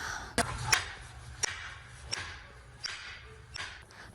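Police breaking down a door during a raid on suspects: a series of sharp, heavy thuds and impacts at irregular intervals, about six blows, fairly close with background noise between them.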